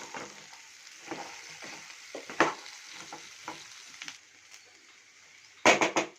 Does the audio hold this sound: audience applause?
no